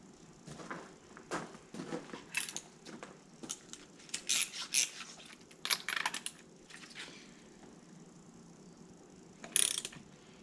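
A ratchet wrench tightens a spark plug on a boat motor, giving quiet, close, irregular bursts of clicking pawl strokes with short pauses between them and no talk.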